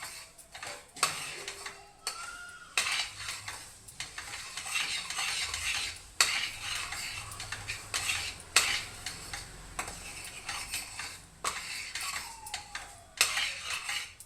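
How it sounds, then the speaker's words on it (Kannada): Raw mango chutney (thokku) is stirred in a pan with little oil: repeated sharp spatula scrapes and knocks against the metal over a light sizzle, close and clear, with no speech. "ಚೆನ್ನಾಗಿ ಹೀಗೆ ಕೆಳಗೆ ಮೇಲೆ ಮಾಡ್ತಾ ಇರಬೇಕು"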